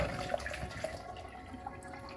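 Water poured into a blender or jug for making fresh pulpy peach juice, a steady soft liquid trickle with a few small splashy drips, fairly faint and continuous with no talking.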